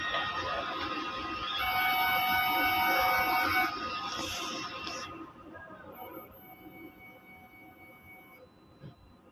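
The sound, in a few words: DTF printer head cleaning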